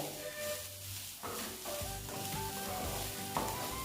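Coconut fried rice tossed and mixed in a hot pan gives a close, continuous sizzle broken by repeated scraping and stirring strokes.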